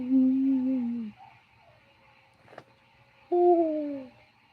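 A human voice imitates an owl's hoot outdoors in a garden: two drawn-out, falling 'woo' calls separated by a pause of quiet background, with a brief click between them.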